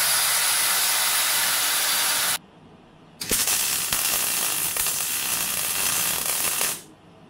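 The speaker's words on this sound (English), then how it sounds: "we're going to weld these to the axle so we can lock it" Welding plates onto the axle of a Ford Cortina Mk3, a loud sustained crackling hiss in two bursts separated by a short pause, close by.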